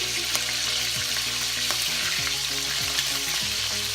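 Meatballs fry in hot oil in a pan over medium-high heat, a dense, steady close sizzle with small pops and crackles running unbroken, no voices.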